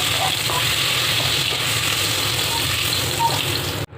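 Fish frying lightly in oil in a wok, a steady close sizzle and crackle running without a break, cut off abruptly at the end.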